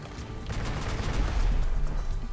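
Gunfire in the vehicle combat game Crossout, aimed at bots: a steady, dense stream of rapid shots with deep rumbling impacts swelling in the middle, loud and continuous with no talking.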